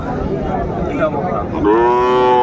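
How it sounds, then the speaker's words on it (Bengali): Young bulls and heifer calves at a Bangladeshi calf market low amid crowd noise, with one long, loud, nearby moo rising clearly toward the end over murmuring voices. "আচ্ছা গরুগুলো একটু দেখান তো"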